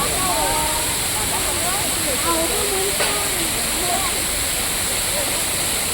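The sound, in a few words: waterfall at Amboli Ghat, Maharashtra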